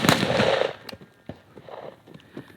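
A rifle fires at an outdoor shooting range: one loud, booming report opens, followed by several fainter, more distant cracks spaced irregularly across the rest.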